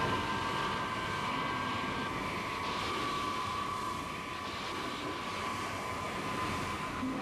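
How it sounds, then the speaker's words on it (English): A Navy F9F Panther jet from the Korean War era gives a steady, distant roar with a thin whine on top, sustained and even throughout with no voices. "The F-9 Panther was the first of the new breed to see combat."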